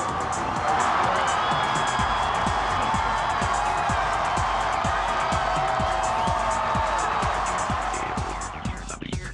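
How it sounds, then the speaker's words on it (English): Large election-night crowd at Grant Park in Chicago cheering and roaring continuously, a dense wash of many voices with a steady rhythmic pulse, loud throughout and tapering slightly at the end. "Listen to the crowd at Grant Park in Chicago."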